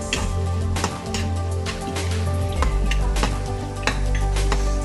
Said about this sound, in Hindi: अब डालेंगे हम सोया सॉस थोड़ा सा